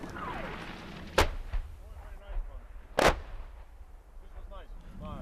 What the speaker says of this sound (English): The artillery shells begin to land.